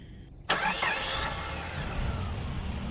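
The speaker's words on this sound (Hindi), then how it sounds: "मेघा गाड़ी चला रही थी।" A car engine in an animated Hindi story starts abruptly after a short quiet lead-in, then settles into a steady, fairly loud hum that carries on alone to the end.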